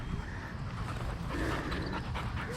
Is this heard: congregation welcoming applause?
no